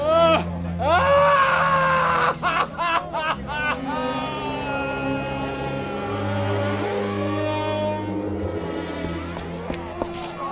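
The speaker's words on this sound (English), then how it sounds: "I heard him screaming" A man screams in drawn-out, anguished wails that rise and break, loud and close, with other voices and crowd murmur mixing underneath in a vintage television drama scene.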